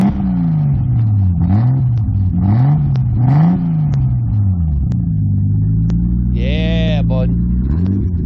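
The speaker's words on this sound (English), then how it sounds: "Give me a rev." A JDM Toyota Supra engine revving up and down in repeated throttle blips at a car meet, loud and close, with the idle rising and falling between revs and brief voices over it.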